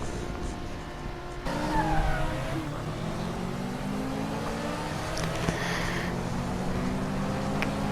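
Race cars roaring off the start line in the NASCAR Heat video game, a dense engine drone that rises as the pack accelerates and holds steady, loud and continuous with no talk.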